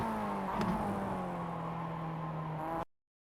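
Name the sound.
Mazda MX-5 engine downshifting in iRacing video game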